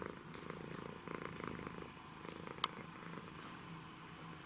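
A cat purring softly and steadily up close, quiet and continuous, with one sharp click partway through.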